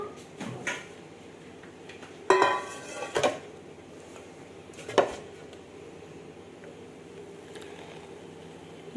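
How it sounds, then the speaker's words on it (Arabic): A metal cake baking tray clatters against kitchen surfaces in a few sharp knocks and scrapes, close and moderately loud over a quiet background with no talking. "هجيب بقى الصينيه اللي انا بطلتها"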